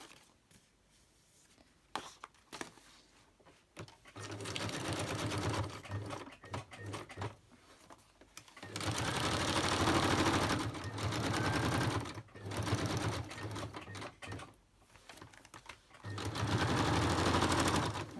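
A sewing machine stitches a handmade Christmas photo folder in several bursts of fast, rhythmic whirring and clattering, close and loud, separated by short pauses with handling noises.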